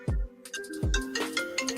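A phone ringtone goes off in a TV talk-show studio, a bright repeating electronic melody with two sharp low thumps at its start, loud and close with no talk over it.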